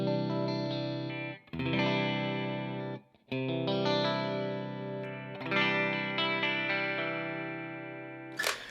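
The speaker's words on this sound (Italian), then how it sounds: "Partiamo con la Fender Stratocaster. Questi sono i suoni di base." A Fender Stratocaster electric guitar plays clean base tones through a Way Huge Red Llama pedal setup: sustained, richly harmonic chords ringing out in three phrases separated by short gaps, ending with a brief noisy burst.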